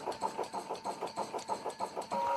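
A Brother ScanNCut-style electronic die cutting machine, the Design n Cut 200, runs with a regular pulsing whir, about four beats per second, steady and moderately loud, ending in a continuous hum.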